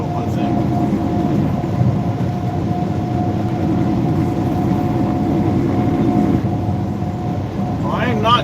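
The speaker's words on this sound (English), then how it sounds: "Oh, big old train cars." Big freight train cars rolling past in Memphis, a continuous heavy rumble with a steady rhythmic clatter and a faint sustained whine, loud and close throughout with only small swells.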